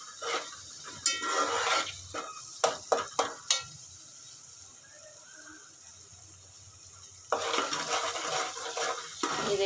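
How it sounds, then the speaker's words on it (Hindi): Masala spices and four whole green chillies fry in a pan for dal makhani: bursts of stirring and utensil clatter over a low sizzle, a quiet stretch in the middle, then steady scraping again. "इसको थोड़ा सा और भूनते हैं मसाले को।"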